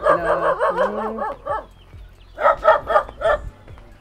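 A dog barks and yips in quick bursts, several short barks, then a pause and another cluster of barks, close and fairly loud.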